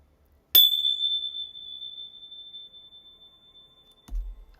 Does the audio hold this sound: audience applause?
no